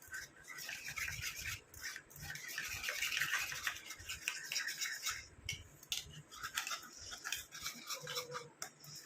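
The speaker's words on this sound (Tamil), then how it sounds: "இந்த கட்டிகள்லாம் இல்லாமல் நல்லா மிக்ஸ் பண்ணி விட்டுருங்க." Stirring a homemade hair dye paste blended with coconut oil: steady scraping and rubbing strokes against the bowl continue for several seconds with brief pauses. No one speaks.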